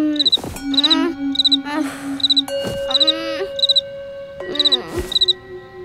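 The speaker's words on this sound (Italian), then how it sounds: "È impossibile addormentarsi con questo grillo." A cartoon cricket chirps in quick repeated bursts, loud and close, while animated characters make groans and vocal sounds over it.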